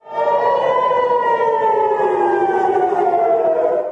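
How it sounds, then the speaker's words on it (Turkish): A loud civil defense air raid siren wails steadily and continuously, its rising and falling harmonic tone filling the whole stretch with no voices. "Başkentte füzenin düşmesinden dakikalar önce sirenler çaldı"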